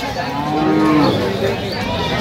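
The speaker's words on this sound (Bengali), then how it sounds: "ষাঁড় বাচ্চা।" A bull calf at a rural cattle market in Bangladesh lets out one loud, close, drawn-out moo that fills the whole moment, with no voices over it.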